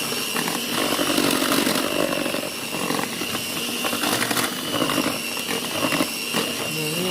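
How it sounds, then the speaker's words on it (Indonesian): A hand-held electric mixer whirs steadily at low speed through matcha cheesecake batter, a continuous buzzing motor drone with slight fluctuations, close and fairly loud, with no talking. "Oke, kita mixer ya dengan kecepatan kecil dulu ya."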